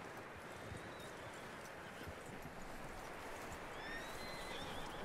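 A horse in the video game Red Dead Redemption 2 (PS4 opening) neighs and whinnies, with its hooves clip-clopping. The sound is fairly quiet and sits in a dense, steady wash of ambient game sound.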